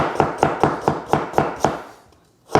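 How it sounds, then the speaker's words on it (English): A knife chops carrot finely on a board in a quick, even rhythm of about seven sharp close strikes, then a brief pause before one more chop. "So I got some carrot here. Just going to cut that up real fine."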